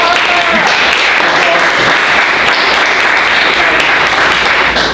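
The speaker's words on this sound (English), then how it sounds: "Let's give him a round of applause." A crowd at a 2015 team meeting applauds a colleague, loud dense clapping that holds steady throughout with some voices mixed in.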